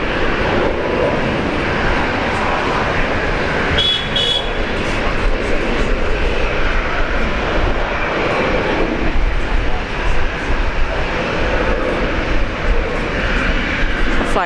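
Air New Zealand jet on flight 272 to Wellington at Brisbane airport, a loud continuous engine roar holding steady for the whole stretch, with speech faintly underneath.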